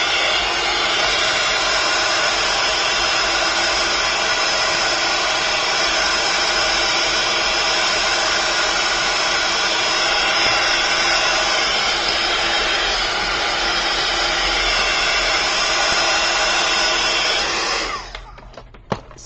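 A handheld heat tool blows hot air over paint on an art journal page, a steady, loud whooshing hiss held without break until it is switched off near the end, leaving a few small handling clicks.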